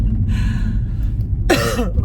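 A single harsh cough bursts out close to the microphone after a short breathy sound, over a low rumbling background.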